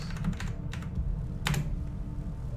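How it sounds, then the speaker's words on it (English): Keys clatter on an old computer keyboard in quick, irregular bursts of clicks with short pauses between them, close by and moderately loud, with no voices. "This keyboard is old, so it like randomly types random letters while I'm going."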